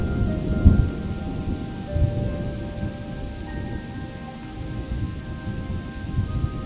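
Heavy rain pours steadily onto a poor family's hut, with deep rumbles of thunder rolling through at moments, loud and close with no voices.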